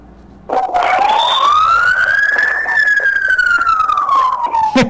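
An ambulance siren on a street during the Cagsawa Festival 2023 street dance parade sweeps past in one long rising-then-falling wail, loud and close, over a steady crowd and street din.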